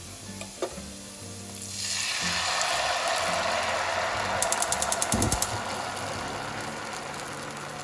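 Kalathappam batter poured into sautéed onions in a hot pan bursts into a loud, sustained sizzle after a brief quieter start, with a rapid burst of small clicks and a low thump partway through.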